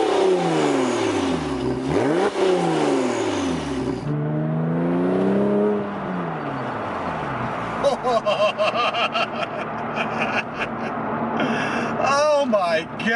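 A 2001 Porsche 911 Turbo engine revs hard in repeated rising and falling sweeps, loud and close, then settles into a steadier drone under a few sharp blips near the end.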